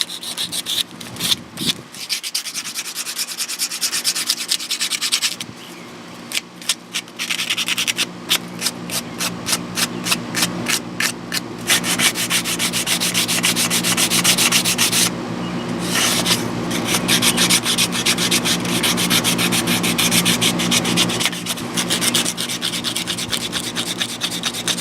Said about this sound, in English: But I'm going to sand this first.